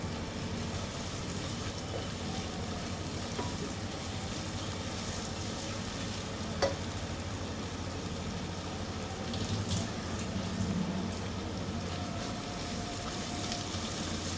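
Green chillies, cut in two for a white chicken kurma, sauté in a pan with a soft, steady, continuous sizzle and faint occasional pops.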